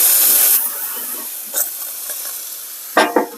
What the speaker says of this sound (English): Okay, clean the steam tip,